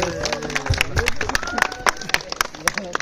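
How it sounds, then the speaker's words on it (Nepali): An audience applauds for the riders at a motogymkhana event, with scattered claps mixed into crowd babble and a steady background din, while a voice talks over it. "एकचोटि ताली बजाउँ आफैलाई"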